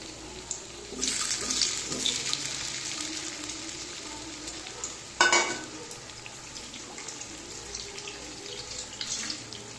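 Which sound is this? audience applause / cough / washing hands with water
washing hands with water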